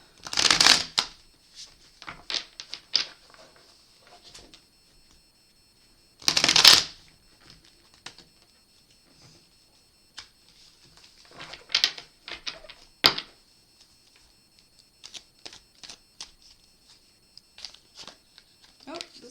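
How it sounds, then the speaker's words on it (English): Tarot cards being shuffled in several sharp riffling bursts, separated by quieter pauses with soft clicks and handling noises. "Give these a couple good shuffles here."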